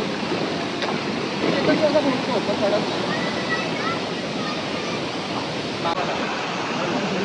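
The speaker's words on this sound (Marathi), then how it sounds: "हा वॉटरफॉल चालू आहे इथे" Shivdav waterfall roars steadily and loudly, a constant rushing wash of water with faint voices blended into the noise.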